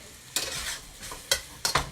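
Bursts of hissing sizzle rise as Dungeness crab stir-fry is stirred and tossed in a hot pan, three or four scraping surges in quick succession.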